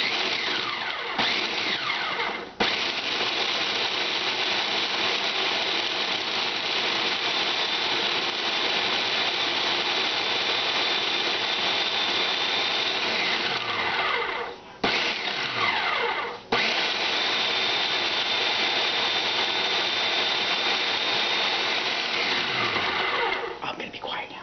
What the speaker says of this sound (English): We all know how food processors are.